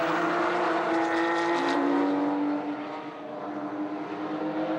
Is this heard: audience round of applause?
no